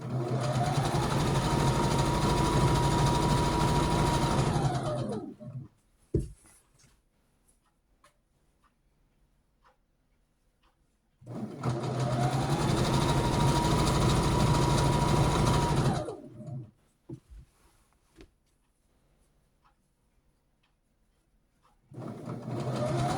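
A sewing machine stitches a strip onto a lap-size quilt, running in two long, loud, steady bursts of whirring separated by quiet handling and small clicks, then starting up again at the end.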